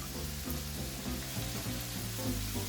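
Black-eyed peas seasoned with salt and black pepper are stirred in a pot, giving a steady, close sizzle with soft scraping strokes and faint tonal hum throughout, no voices.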